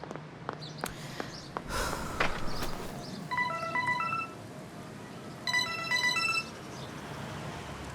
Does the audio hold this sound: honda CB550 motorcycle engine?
no